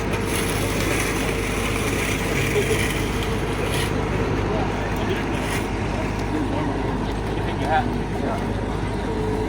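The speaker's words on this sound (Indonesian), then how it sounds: "ini ya pengaspalannya ya, sudah jalan lagi ya" Asphalt paving machinery working on a road resurfacing job on Gabus Raya, a steady broadband engine rumble that runs nonstop, with a voice talking over it.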